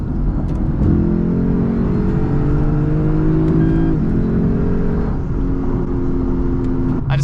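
A Lexus IS F's V8 engine revs up in a few rising pulls, with steady rumbling between and a brief sharp sound near the end, close and loud with no talking.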